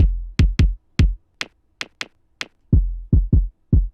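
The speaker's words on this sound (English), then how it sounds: "In this song, there are two kicks." Two kick drums from an 80s-style pop song play together, a deep sub kick layered with a brighter chorus kick, giving about a dozen punchy, close, evenly spaced hits alone with no other instruments.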